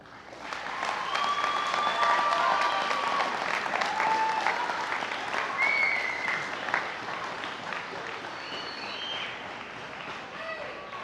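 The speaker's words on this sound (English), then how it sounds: "I would now ask that you give a round of applause to those who have sacrificed and stood at your side" A large crowd applauds warmly at a Joyce University commencement ceremony, a dense, sustained wash of clapping with scattered whistles and cheers rising above it for the whole stretch.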